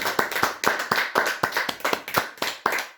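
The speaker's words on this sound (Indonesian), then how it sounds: "kita tepuk tangan untuk Tuhan" A home worship congregation claps hands in praise, steady rhythmic unison claps about four per second, close and clear with no talk.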